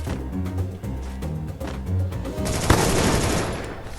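Gunfire aimed at a car in a video game, rapid bursts of shots in quick succession followed by a louder crash of impacts and noise, close and dense.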